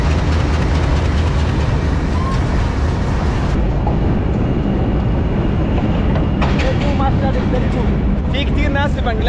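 A crowded passenger train rolling along its rails in Bangladesh, with a steady loud rumble and clattering wheels running throughout, close by and continuous, with no speech over it.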